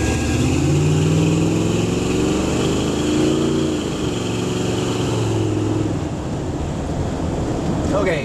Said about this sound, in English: Okay, that was just like a half throttle takeoff on this one.